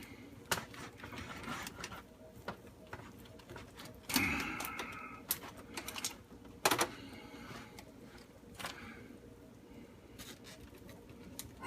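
A new knife slices through smoked brisket with soft, irregular scraping and tapping strokes, fairly quiet and close, with a few sharper board knocks in between.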